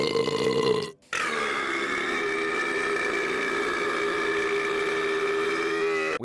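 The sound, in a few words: burping in a burp contest, Fallout 2 video game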